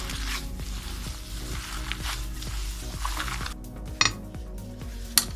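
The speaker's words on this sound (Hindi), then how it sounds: "देखें, कीमा हमारा बिल्कुल मिक्स हो चुका है" Minced meat being worked together with eggs and spices for Peshawari chapli kebab, giving steady wet squishing and kneading over a low background hum, with a couple of sharp clinks of a utensil near the end.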